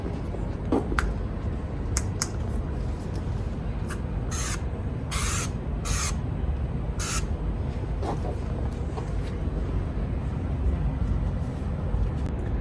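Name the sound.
spraying Xtreme Bio aerosol disinfectant on keyboard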